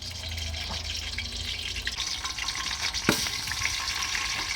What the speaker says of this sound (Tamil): இவனுங்க போடுற எண்ணெயில் மிளகாலாம் வெளியே வருது